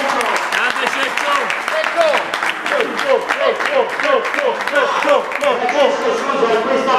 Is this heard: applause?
yes